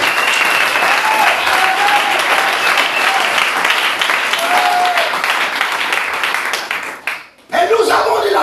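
A church congregation bursts into sustained loud applause and cheering that fills the room, with voices mixed into the clapping before it briefly cuts out and resumes.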